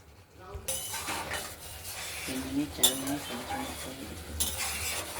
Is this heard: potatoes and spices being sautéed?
yes